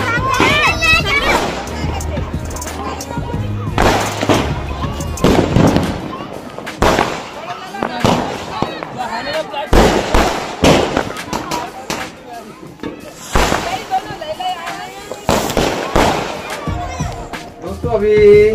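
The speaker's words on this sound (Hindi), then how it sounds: "ऊपर भी पटाखे छोड़ रहा है।" Diwali firecrackers and fireworks go off as repeated loud bangs and crackling bursts, close by and scattered, while children and other people talk and shout throughout.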